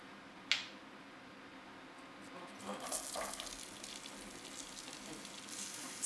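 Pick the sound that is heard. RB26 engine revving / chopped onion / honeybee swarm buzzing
chopped onion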